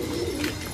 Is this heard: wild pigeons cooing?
yes